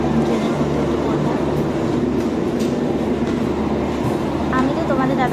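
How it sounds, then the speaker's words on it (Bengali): A passenger train pulling into a station bound for Chennai, a loud, continuous rumble of rolling wheels with faint squeals near the end. "এই যে আমাদের ট্রেন চলে এসেছে, এবার আমরা ট্রেনের মধ্যে উঠে পড়বো"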